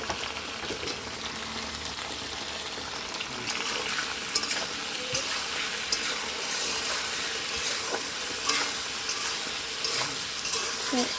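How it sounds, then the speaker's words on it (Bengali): Pointed gourd pieces fry in hot oil with salt and turmeric, giving a close, steady sizzle broken by occasional scraping stirs across the pan. "এগুলো এদিকে লাল করে ভাজা হোক।"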